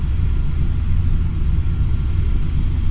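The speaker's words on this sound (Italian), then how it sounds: "In questo tramonto olandese con fulmini, saete" Steady heavy low rumble in Microsoft Flight Simulator X during a thunderstorm with lightning at sunset over the Netherlands, heard from a KLM 737-800, continuous and loud with no talking.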